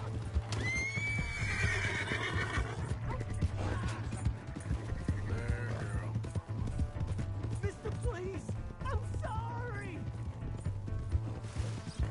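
A horse whinnies loudly, then hooves clip-clop and more snorts and neighs follow, with game sound effects and some voices mixed in.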